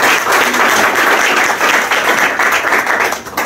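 A conference audience claps warmly to welcome a speaker: loud, dense, sustained applause from many hands that dips briefly near the end.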